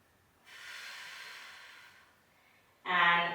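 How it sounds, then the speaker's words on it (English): Steady breathing held in a bent-leg Pilates plank on a mat: a long, soft exhaled hiss followed after a pause by a sharper, louder breath, close and without talk. "Inhale and exhale."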